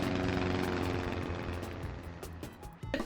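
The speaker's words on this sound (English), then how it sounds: "We hear kind of airplane noises in the background" Airplane noise in an Animal Crossing trailer for a charter flight to a deserted island: a steady droning engine hum with some mechanical rattle, fading toward the end, alone without talk.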